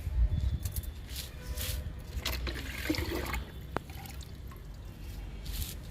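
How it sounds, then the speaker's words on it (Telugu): Water is poured and splashes into soil of a freshly repotted plant for a few seconds, with wet trickling and dripping sounds close by. "ఇప్పుడు వాటర్ ఇచ్చేస్తున్నా"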